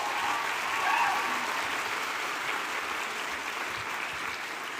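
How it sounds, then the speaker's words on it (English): Sustained audience applause at an outdoor-style college commencement ceremony, a dense even wash of clapping from a large crowd that swells slightly near the start and holds steady throughout. "One more round of applause."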